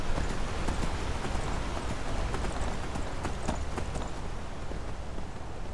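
Horse hooves pound in a fast, even run in the video game Skyrim, a steady drumming of clip-clops over a constant wash of outdoor noise.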